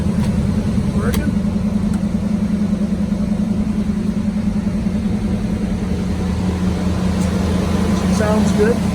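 A 1978 Pontiac Trans Am Y88 idles steadily at close range, a constant low rumble with no change in pace.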